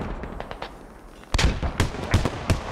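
Gunfire in the tactical shooter game Squad: a quiet lull, then a burst of sharp, loud shots and explosions in an irregular rhythm.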